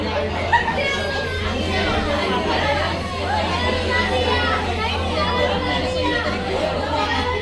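Students fool around in a college classroom while the teacher is away, with continuous overlapping chatter, shouts and laughter filling the room over a steady low electrical hum.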